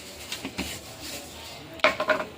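Mustard seeds dropped into a pan while cooking an onion curry, giving a few sharp crackling clinks and rattles near the end after quieter stirring and utensil knocks.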